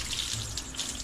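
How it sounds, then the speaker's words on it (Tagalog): Water runs from a tap in a brief, steady, close splashing hiss with no voices. "Hindi, lakasan mo yung gripo."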